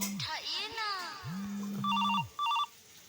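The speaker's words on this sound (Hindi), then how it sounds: "एक सेकंड, फोन आ गया है।" A telephone rings in short electronic trilling bursts, two rings close together near the end, while a person talks just before and between them.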